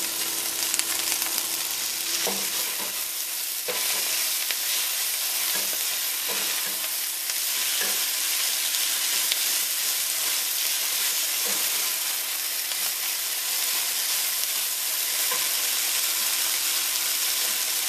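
Collard greens with finely diced tomato, salt and black pepper sizzle steadily in a hot pan, Caribbean-style, a close continuous frying hiss with occasional faint clicks of stirring and no voices.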